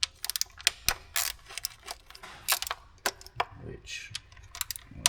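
Ratchet clicking while loosening the valve cover screws on a 2015 Honda CR-V, giving quick bursts of close, sharp metallic ticks and clicks with short pauses between.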